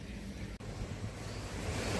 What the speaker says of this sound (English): look at this as I arrive at the ocean.